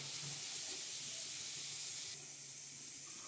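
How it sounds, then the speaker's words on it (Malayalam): Onions sautéing in a pan for a green peas egg masala, a faint steady hiss close by that drops slightly in brightness partway through, with no speech. "ഉള്ളി നന്നായി വഴന്നൊരു ഗോൾഡൻ കളർ ആവണം."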